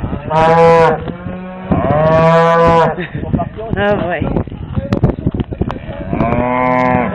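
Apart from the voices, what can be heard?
cows mooing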